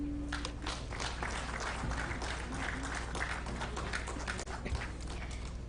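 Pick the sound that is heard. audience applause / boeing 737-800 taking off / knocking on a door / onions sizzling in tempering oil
audience applause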